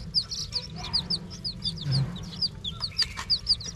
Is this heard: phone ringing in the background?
no